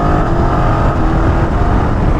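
A BMW F 900 GS 2024 motorcycle engine drones loud and steady during a test ride, a continuous close mechanical roar with no voices over it.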